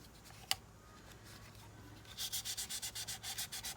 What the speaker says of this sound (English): you don't want to sand too much